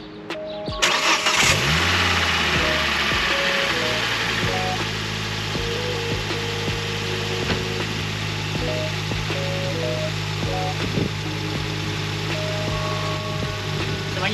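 A Ford Focus ST engine fitted with an MK2 RS oil cooler cranks and catches, then settles into a steady, loud idle close by with slight variations, running alone without talk.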